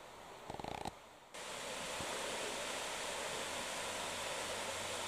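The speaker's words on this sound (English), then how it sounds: "We're surrounded by the trees of Lael Forest, and here the waterfalls." Forest waterfalls surrounded by trees roar as a steady, broad rushing wash, starting after a short quieter stretch with a few brief clicks, then continuing unbroken and fairly loud.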